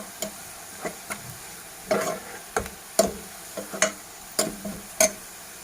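Crushed red chili fries with browned onions in a pan, a low continuous sizzle punctuated by a dozen sharp, regular spoon clicks against the metal as the mixture is stirred.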